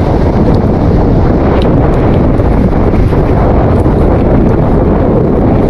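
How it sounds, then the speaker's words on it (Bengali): Strong wind at Kuakata sea beach roars against the microphone as a loud, constant, rumbling buffet with no let-up and no other sound standing out. "আর এত পরিমাণ বাতাস আমি একটু দেখাই"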